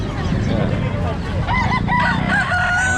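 A gamecock rooster crows loudly and close by, a drawn-out harmonic call rising and falling over a noisy farmyard background.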